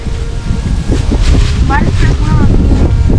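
Strong wind blows across an open rural yard, producing a loud, constant buffeting rumble against the microphone. A brief voice-like sound rises over the noise.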